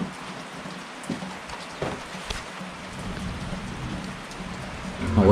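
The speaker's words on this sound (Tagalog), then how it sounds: "Yan pala guys ay nag-ulan na naman." Steady rain falls on a rainy day outdoors while a fire is being lit for grilling milkfish, a dense continuous patter with a few louder drops and a faint distant rumble, no voices.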